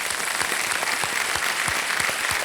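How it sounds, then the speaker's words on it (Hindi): Studio audience at a game show, Kaun Banega Crorepati, applauding new Fastest Finger First contestants: a dense, steady wash of clapping from a large crowd, sustained and even with no talk over it. "सबसे पहले जोरदार तालियां बज जाए इनके लिए।"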